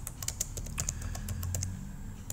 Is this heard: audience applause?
no